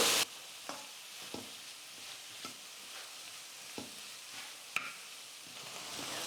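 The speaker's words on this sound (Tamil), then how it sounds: "ஒரு 5லேருந்து 7 நிமிஷத்துக்கு ஸ்டவ்வை கொஞ்சம் குறைச்சி வச்சுட்டு நான் பீன்ஸை நல்லா வதக்கிக்கிட்டேன்" Green beans sauté in a pan over a lowered flame, giving a quiet, steady sizzle broken by regular spatula scrapes and stirs about every half-second to second, with no voices.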